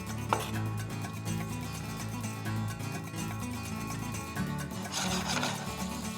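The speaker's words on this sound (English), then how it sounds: "The abrasiveness of the salt helps to crush the garlic" Garlic being crushed with salt under a knife blade on a board, a continuous gritty rasping and scraping close up with no talk.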